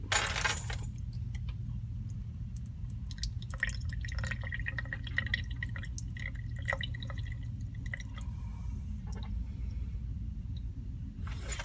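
Liquid is poured off into a sink and then drips in a scatter of small, irregular drops and clinks over a steady low hum, close by, with no talking.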